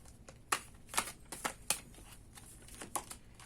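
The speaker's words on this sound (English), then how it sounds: "let's keep shuffling." Tarot cards being shuffled by hand, a series of crisp riffling bursts and soft slaps in an uneven rhythm, close and fairly quiet with no talking.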